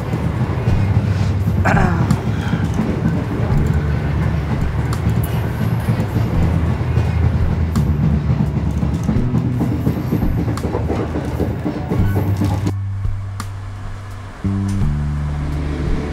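A passenger train rolls steadily along its rails with a continuous low rumble and faint rhythmic clatter, the noise dropping briefly near the end before resuming, with no talk over it.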